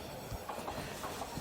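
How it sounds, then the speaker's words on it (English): A train passes on a railway track near Bilbao with a steady rumble and a rhythmic clickety-clack of wheels over rail joints. It is moderate and fairly close, with no talking. "there are a few trains in this video"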